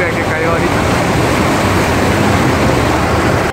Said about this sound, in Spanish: Es increíble el río que está bajando.